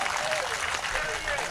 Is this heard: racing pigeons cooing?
no